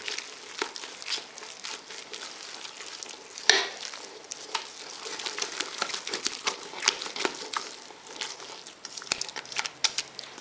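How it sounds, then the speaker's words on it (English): English muffin dough worked by hand with a spatula in a bowl, giving close, irregular sticky scraping and slapping through the whole stretch, with one sharper knock near the start and nobody speaking. "Then mix this well by hand with a spatula."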